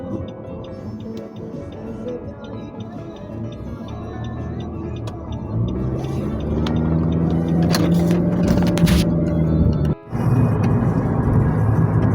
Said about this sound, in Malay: Banyak kereta.